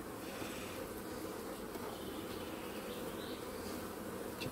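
Honeybees swarm around an open, queenright beehive during an inspection, giving a dense, steady buzz that stays close and continuous throughout with no speech.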